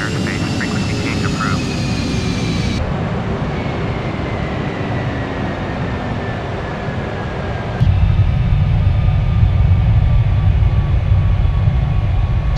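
A PMDG Boeing 747-400 takes off in the FSX flight simulator, a loud sustained jet engine roar that swells partway through, with cockpit voices calling out over it.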